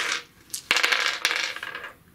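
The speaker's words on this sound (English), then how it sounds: "which I've rolled the dice here" Edge of the Empire narrative dice rattle and tumble onto a hard surface, with a handful of close, sharp clicks and clatters that settle over about two seconds.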